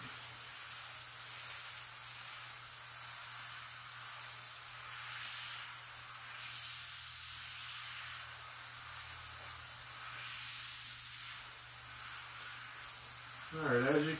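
An airbrush sprays paint freehand onto a T-shirt with a soft, steady hiss that swells and eases gently throughout, and a brief voice comes in near the end.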